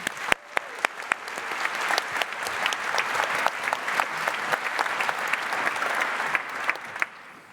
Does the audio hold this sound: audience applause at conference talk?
yes